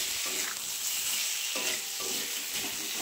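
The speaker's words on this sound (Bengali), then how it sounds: "এবার আমি ডিমটা আলুটা দিয়ে দেবো মশলাটাতে।" Egg and potato sizzle as they are stirred into a nearly cooked spice paste in a hot pan, a steady frying hiss with soft stirring scrapes throughout, close and alone.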